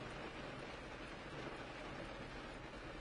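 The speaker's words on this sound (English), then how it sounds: "the rain patters satisfyingly onto the glass overhead" Rain patters steadily on a domed glass skylight overhead at night, a dense, even wash of drops that stays constant and close throughout.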